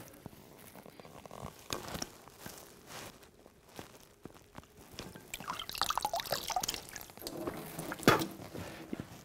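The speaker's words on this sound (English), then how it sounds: "I'm just going to basically suck some water up my nose, and I'm going to spit it in the sink" Water being sucked up the nose and spat into a sink during a sinus rinse, with wet slurping, splashing and dripping sounds running continuously at close range, alone.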